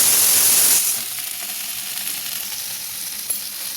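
Potatoes and okra sizzle and fry together in a pan, a loud hissing burst at first that settles into a steady, quieter crackle, with a faint clink near the end and no talk.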